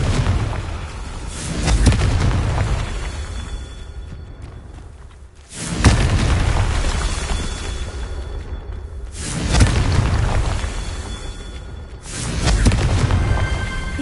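Confringo blasting curse explosions in Hogwarts Legacy, several loud booming blasts with long rumbling tails spaced a few seconds apart.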